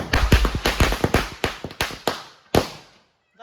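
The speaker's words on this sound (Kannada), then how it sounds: "ಪಟಾಕಿ ಪಟಾಕಿ" Deepavali firecrackers burst in a rapid string of sharp, loud cracks and pops, close by, slowing to a few isolated bangs before a brief silence and a faint voice at the end.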